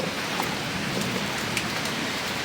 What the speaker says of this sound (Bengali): আজকে আসলে অনেক বৃষ্টি পড়তেছে মানে অনেক বৃষ্টি পড়তেছে